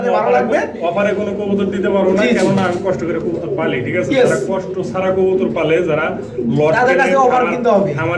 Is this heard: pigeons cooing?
yes